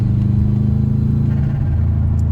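Bugeye Subaru WRX with a cone air intake, a steady low engine rumble with an airy intake whoosh under light revving, close and fairly loud.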